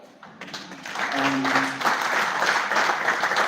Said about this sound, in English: people see these accolades and they clap